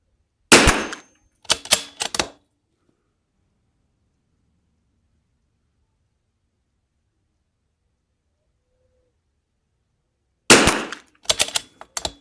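A CZ 457 rifle fires at a target: two sharp, loud shots about ten seconds apart, each followed by a quick cluster of short cracks and clatter, with near silence in between.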